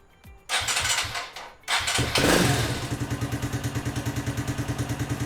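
Suzuki DR200 single-cylinder motorcycle cranks for a moment, catches and starts, then settles into a steady, even thumping idle, loud and close with no voices.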